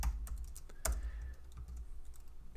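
Rapid, uneven keystrokes on a computer keyboard while code is typed, a dense run of close clicks with one sharper clack near the start and no talking.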